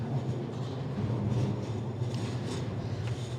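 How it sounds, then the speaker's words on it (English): A tram rolls past below Dam Square in Amsterdam, heard from a rooftop as a steady low rumble, distant and continuous, with faint city hiss above it. "The tram down there below."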